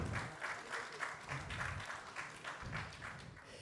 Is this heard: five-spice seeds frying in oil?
no